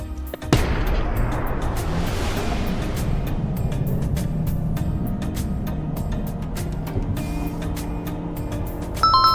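A 2025 Toyota Camry carrying four people accelerates from standstill to 100, heard from inside as a steady low engine and road rumble with scattered sharp clicks and no talking.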